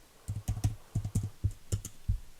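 Keys clack on a computer keyboard in a short burst of about a dozen quick, uneven strokes, close and fairly quiet.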